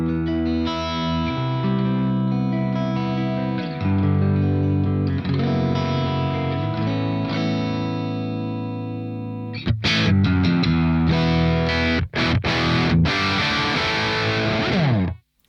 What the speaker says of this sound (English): But if I go to, say, position 4, I can chime it up.